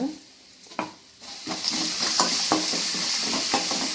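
Green chilli, garlic and coriander fry in hot oil with a steady close sizzle, broken by several sharp scrapes and stirs of a spatula in the pan.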